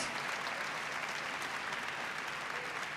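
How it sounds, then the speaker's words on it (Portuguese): A church congregation applauds during a worship service, a dense, continuous wash of clapping heard from a distance at low volume with no voices on top. "pode aplaudir ao Senhor"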